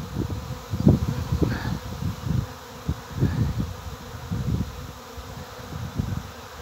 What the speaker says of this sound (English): all of a sudden, a home and thousands of bees